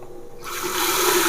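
Running water rinses a plastic razor, a steady rushing stream that starts abruptly and continues loud and close.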